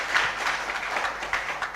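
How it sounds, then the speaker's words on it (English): Soft, continuous audience applause at a university guest lecture on coastal and pluvial flood risk, honoring two speakers and a moderator; the clapping sounds somewhat distant and fairly quiet, with a few sharper claps poking through. "please give a big applause to our 2 speakers and moderator"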